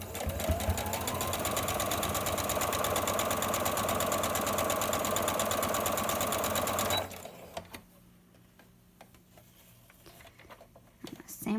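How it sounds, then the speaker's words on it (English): A sewing machine runs steadily and loudly for about seven seconds, stitching down the edge of a fabric face mask near the elastic. It then stops abruptly, leaving quiet handling noises. "So I'm gonna move this over and sew down this edge, making sure you don't hit that elastic."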